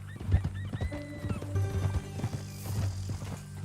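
Horse hooves clip-clop on the ground in uneven beats while a horse whinnies with rising tonal neighs, in Red Dead Redemption 2, with faint speech in the background.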